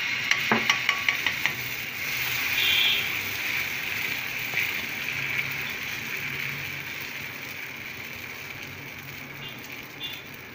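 Mutton kari dosa batter settling onto a hot pan with a soft, steady sizzle, opened by a few quick metallic taps of a utensil, then a continuous low frying hiss.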